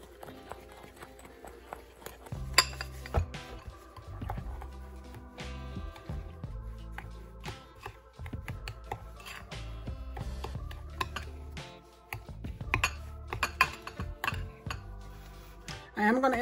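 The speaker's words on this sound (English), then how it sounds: "we're gonna go ahead and mix this bowl" Cake batter for a cotton candy crunch cream cheese pound cake being mixed in a bowl: irregular clinks and scrapes of a utensil against the bowl, moderately close, with soft background music throughout.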